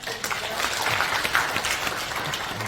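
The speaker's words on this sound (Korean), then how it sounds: "큰 박수 부탁드립니다" Brief burst of audience clapping at a Christian women's prayer meeting, a dense, even patter of many hands filling the room for under three seconds.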